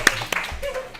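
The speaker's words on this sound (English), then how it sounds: "Can we clap it up for Coach Phil?" Softball teammates gathered at a restaurant give Coach Phil a few scattered, sharp claps, with voices talking between them.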